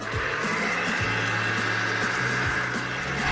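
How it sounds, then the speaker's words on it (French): A hair dryer blows over acrylic pour paint with a constant, loud whooshing hum, with faint intermittent clicks or taps over the steady airflow. "le souffle du sèche-cheveux pour amener la peinture au-dessus"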